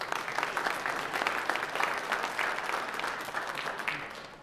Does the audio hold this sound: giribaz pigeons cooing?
no